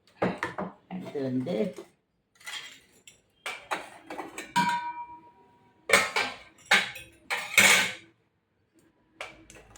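Radish greens kootu served onto a plate at a home meal, with clinks and scrapes of a serving spoon against steel dishes in short bursts, close by, between stretches of a person talking.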